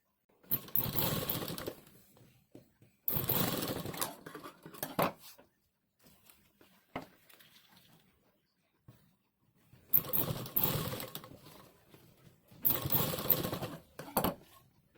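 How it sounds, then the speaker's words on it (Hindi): A sewing machine stitching an elastic belt runs in several bursts of rapid, close mechanical whirring, each lasting a second or two, separated by quiet pauses with faint handling clicks. "इसी तरह से यहाँ पर भी हम सिलाई लगाएंगे"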